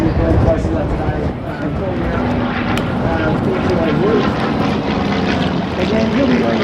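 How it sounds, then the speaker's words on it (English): An RAAF CT-4 propeller airplane flies at high speed near its 200-knot maximum, its engine a steady loud drone that runs the whole time with a voice talking over it. "Airplane's overall at high speed, the maximum speed of the airplane is 200 knots."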